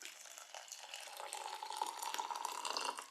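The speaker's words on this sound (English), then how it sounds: "let's put some hot water in here" Hot water pours into an Australian Defence Force combat ration meal pack, giving a continuous close trickle and splash that grows slightly fuller and louder as it goes, with no one speaking.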